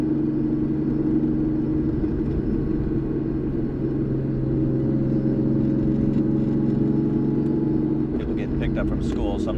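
A 1999 Nissan Skyline GT-R R34 V-Spec, mildly tuned to about 600 horsepower, idles with a steady, deep, close rumble that holds evenly throughout, with a few brighter sounds near the end.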